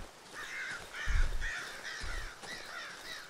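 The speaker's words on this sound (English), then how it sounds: "I scared the crows." Crows in the horror game Darkwood caw repeatedly in a loose series of harsh calls, with low fluttering thumps of wings as they take off, fairly close and without speech.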